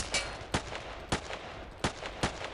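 Gunshots ring out in the video game Battlefield 2, five sharp, fairly distant single cracks at irregular intervals over a quiet background hum, with no talking.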